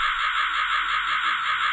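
Harsh, sustained cawing from a raven in the video game Rusty Lake: Hotel, loud and close, running unbroken with a slight pulsing texture.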